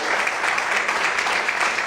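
Steady, dense applause from a large church congregation, loud and continuous throughout with no pauses.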